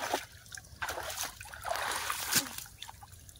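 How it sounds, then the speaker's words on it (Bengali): Shrimp jump and splash in a big Sundarbans river as a fishing net is worked, making scattered close splashes and trickles with a quick spatter near the middle and a low watery rumble beneath. "চিংড়ি মাছ লাফাচ্ছে তো ভালো।"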